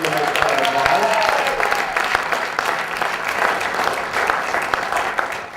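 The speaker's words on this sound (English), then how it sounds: "Give them a nice round of applause." A college elevator pitch competition audience applauds in a hall, dense continuous clapping that holds steady and tapers slightly toward the end, with a voice briefly audible near the start.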